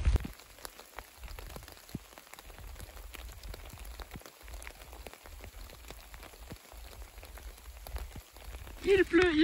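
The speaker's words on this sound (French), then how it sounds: "ce matin, il pleut" Steady rain patters on surfaces outdoors during a morning on the Way of Le Puy-en-Velay, a soft continuous hiss with scattered drips, and a voice speaks briefly near the end.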